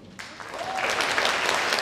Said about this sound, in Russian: Специальные аплодисменты, пожалуйста, на Фигову Ильдару.